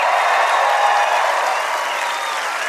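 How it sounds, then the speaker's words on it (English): A crowd at a 300mm tree felling contest final bursts into sustained applause with some cheering, a loud, dense wash of clapping that holds steady and eases slightly toward the end. "you can give them a big, big cheer"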